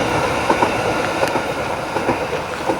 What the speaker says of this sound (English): railway that runs between Liverpool and Ormskirk, and it goes on to Preston